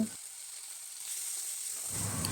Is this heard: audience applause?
no